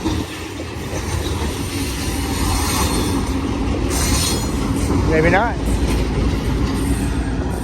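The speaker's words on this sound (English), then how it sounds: "Ballast train. Moving that rock around." A long BNSF ballast train rolls past at Milepost 62 on Cajon Pass, steady loud rumble of cars with a sharp rising wheel squeal near the middle, a brief remark spoken over it.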